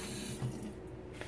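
Tap water runs steadily into a container of chia seeds in a home kitchen, a continuous soft splashing stream heard close up with no talking.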